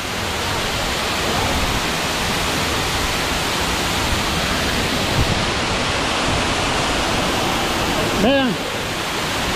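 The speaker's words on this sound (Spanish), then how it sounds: "Esta belleza de cascada." A waterfall at Tejutepeque, El Salvador roars as a constant, dense rush of water, and a voice speaks one brief word near the end.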